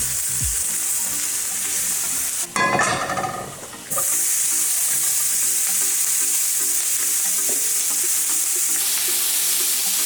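Seasoned potatoes fry in olive oil in a pan, a loud, continuous sizzling hiss with a brief burst of stirring and scraping in the middle, then steady frying resumes.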